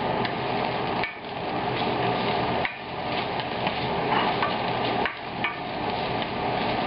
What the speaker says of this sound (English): frying the ginger and the garlic